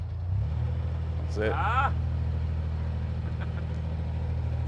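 Narrowboat diesel engine throbbing steadily at close range as more throttle is applied, its low drone holding firm throughout while people talk briefly over it.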